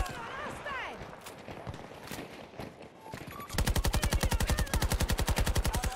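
Rapid automatic AKS-74U fire in Battlefield 2042, a loud steady rattle of evenly spaced shots filling the last few seconds, after a busier stretch of scattered battle noise and effects.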